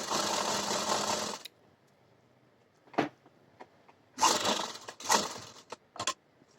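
Sewing machine stitching a salwar belt, a loud buzzing run of stitches followed by a pause and several shorter bursts, close up with no talking.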